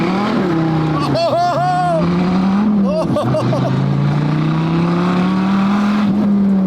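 Supercar launching hard off a clutch drop, its engine note climbing and swelling loud and close with steady strain, while people talk excitedly over the roar.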